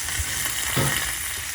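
A chicken breast browns in a frying pan with a steady, close sizzle and crackle of hot fat, with a few soft stirring knocks and no talking.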